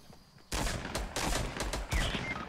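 Gunfire in a Fortnite match, with loud blasts starting half a second in and repeating in bursts at about 1.2 and 1.9 seconds, close and dense, with no speech over them.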